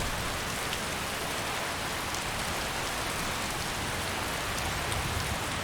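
Steady rain falls in Skyrim Special Edition, a dense, even wash of patter and hiss that fills the whole stretch with no gaps and no voices.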